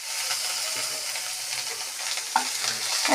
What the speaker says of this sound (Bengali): আচ্ছা, পেঁয়াজটা ভাজা ভাজা হয়ে গেছে